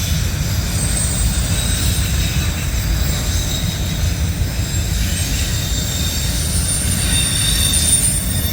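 CSX freight train led by Pere Marquette heritage unit 1899 passes close at Point of Rocks, Maryland, a loud steady rumble of rolling cars with high wheel squeal running throughout.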